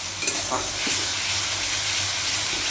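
Tomato paste frying with turmeric, chili powder and salt in a pan for a fish curry, a loud, steady hissing sizzle close up with a few soft stirring knocks near the start.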